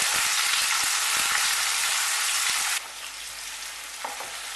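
Mixed vegetables for a vegetable dum pulao frying in a pan, with a strong, dense sizzle that drops to a softer, steady frying hiss partway through, plus a light stir near the end.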